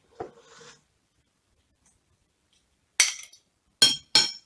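A utensil clinks and scrapes in a bowl while a sugar and butter mixture is combined with a banana and egg mixture, producing a few short, sharp knocks separated by a long quiet gap.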